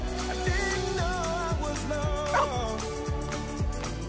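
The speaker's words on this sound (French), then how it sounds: "Ce chien lui a sauvé la vie." A dog barks and lets out thin, wavering whimpers and yips over a steady rhythmic backing, moderately loud and close.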